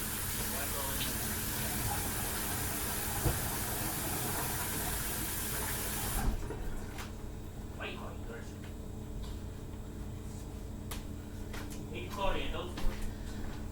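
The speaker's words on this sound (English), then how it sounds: "Let me just wash my hands." Tap water runs steadily into a sink for about six seconds while hands are washed beneath it, then the flow stops and leaves soft handling noises.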